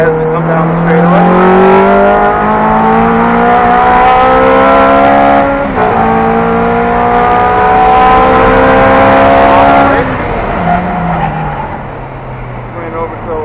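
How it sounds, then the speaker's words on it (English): Race car engine pulling hard down a straightaway, a loud sustained roar with rising harmonic tones, a brief dip near the middle, then easing off toward the end, with a voice talking over it. "Rolling on power as we come down the straightaway."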